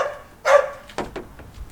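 A dog barks near a 2019 Ram 2500 pickup, giving a few sharp, loud barks in a short burst.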